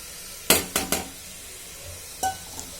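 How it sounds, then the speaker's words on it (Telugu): Sweet corn is tipped into a frying pan, giving a quick cluster of three sharp metallic clinks and clatters, a quiet pause, then one more clink over faint background hiss, with nobody talking. "ఇప్పుడు మనం స్వీట్ కార్న్ వేసుకోవచ్చు."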